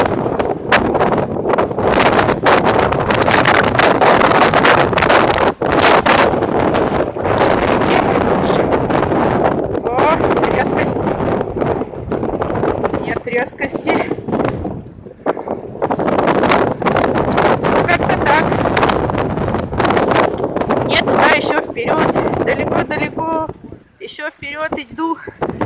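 Loud, roaring wind from a snowstorm in Odessa buffets the microphone almost continuously, with gusts rising and dropping, while a voice speaks faintly underneath.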